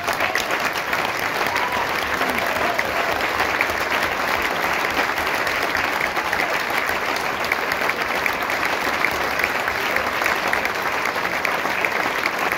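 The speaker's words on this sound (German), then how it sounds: "Das ist euer Applaus" Concert audience applauding at a spring concert by the Harmonie Bätterkinden wind band, a dense, even wash of clapping from a large crowd held steadily throughout.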